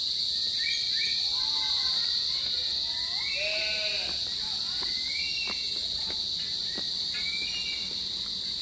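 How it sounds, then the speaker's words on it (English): Sheep bleat several times in the Philippines, wavering calls near and a bit farther off, over a constant high whine of crickets or insects. "It's Filipino sheep."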